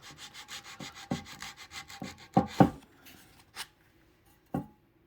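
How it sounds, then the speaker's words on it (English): A large sheet of sandpaper rubs across the fluted ribs of a Miata valve cover in rhythmic, rasping strokes, close and fairly loud, with a few harder scrubs and then sparser strokes with pauses between them. "I'm using this giant piece of sandpaper like a moron."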